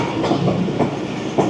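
Train on the Faisalabad to Rawalpindi line approaching Jhelum railway station, heard from on board: a rumbling carriage with rhythmic clickety-clack wheel beats recurring every half second or so, fairly loud, with no speech.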